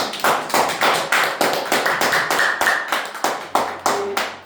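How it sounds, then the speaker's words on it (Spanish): A church congregation claps hands in steady, fast unison rhythm, loud and close, a continuous wash of overlapping claps with no talking. "Denle una ofrenda de palmas al Señor"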